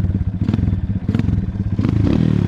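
A Honda CRF 250 or Bashan 250 dirt bike climbs a slope, its engine loud and close with a pulsing throttle that rises into a faster, steadier rev near the end, mixed with clattering and scraping over rough ground.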